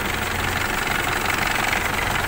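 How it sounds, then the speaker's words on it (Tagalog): An Isuzu D-Max 3.0 diesel engine idles steadily with a constant low rumble and dense mechanical clatter, heard close and unbroken with no voices over it. "So andar na yung makina guys"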